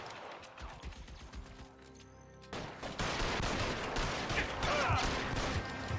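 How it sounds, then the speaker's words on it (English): Gunfire in the video game L.A. Noire, a rapid burst of loud shots with dense crackling reports that grows heavier after a brief lull, a voice faintly under the din. "I think I can just shoot him from right here."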